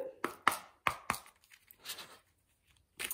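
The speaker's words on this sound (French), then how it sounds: "Je vais mélanger les cartes." Oracle cards being shuffled by hand, a few sharp riffling snaps and softer papery rustles in quick bursts close up, then a short pause before another flutter at the end.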